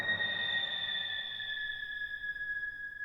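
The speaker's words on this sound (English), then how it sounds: "Like slightly disturbing tones in the background." Sustained, eerie tones from virtual orchestral instruments hold two high, steady pitches over a faint low rumble, slowly fading across a few seconds with no talking.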